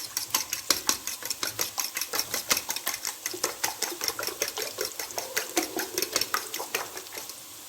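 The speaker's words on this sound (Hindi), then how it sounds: "जब तक ये आए तब तक हम एग बीट कर लेते हैं" Eggs being beaten in a bowl for Pakistani khagina, a fast, steady rhythm of whisking clicks and taps against the bowl, close and continuous with no talk.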